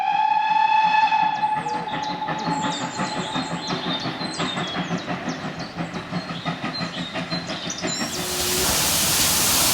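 A train runs past with a rhythmic clatter of wheels over rail joints and a whistle sounding at the start, loud and close, before the noise gives way to a broad hiss.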